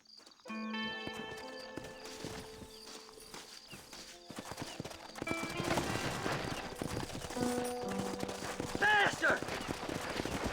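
Horses gallop with clip-clop hoofbeats in the Western video game Red Dead Redemption, mixed under music and game sound effects, with gunfire and voices joining as the pace builds.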